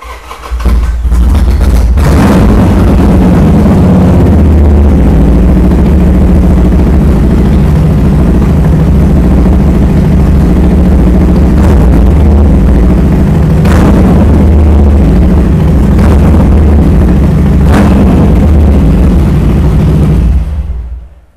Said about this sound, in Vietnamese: nổ máy con này cho mọi người nghe thử cái bô cấp ra nó như thế nào ha